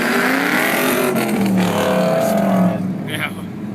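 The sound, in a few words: Mustang Bullet drag racing an LS1 car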